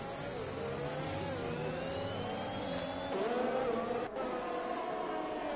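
Race cars running wheel to wheel through tight turns in a racing video game, with a steady layered engine whine that rises and shifts in pitch as the cars accelerate and pass, constant and fairly loud.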